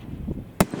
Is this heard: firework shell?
yes